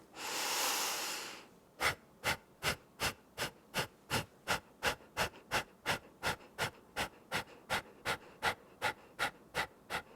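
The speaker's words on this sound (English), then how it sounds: "exhaling, force out like you're blowing a candle out through your nose" Forceful nasal exhalations during a yoga breathing exercise: one long breath followed by a rapid, even train of about twenty sharp, close puffs through the nose, steady in rhythm and loudness, with no talking.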